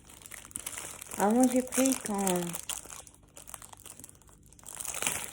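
Crinkling plastic packaging torn open close by, a few seconds of crackling rustle mixed with someone speaking French over it.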